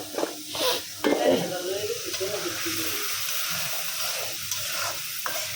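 Food is sautéed in a pan before tomatoes go in: a scraping stir and a soft clatter, then a steady hissing sizzle, with a brief voice in the background.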